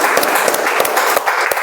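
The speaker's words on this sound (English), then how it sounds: "Loud applause." A meeting audience claps loudly in a dense, continuous round of applause with scattered sharp individual claps throughout.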